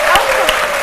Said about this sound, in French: on applaudit très fort pour les sapeurs-pompiers qui sont venus nous surprendre ici dans ce studio